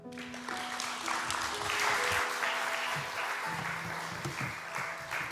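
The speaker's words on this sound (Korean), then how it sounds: "우리 다시 한번 그 제자반 수료한 친구들과 또 수고한 스태프들 위해 한번 박수하면 좋을 것 같습니다." A church congregation at a youth discipleship graduation service applauds, with steady scattered clapping filling the room, fairly faint, accompanied by some murmuring voices.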